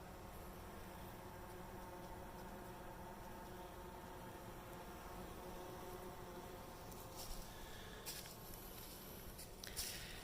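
Bees hum inside a hive in a dense, continuous drone, muffled as if enclosed, with faint scratching and tapping near the end.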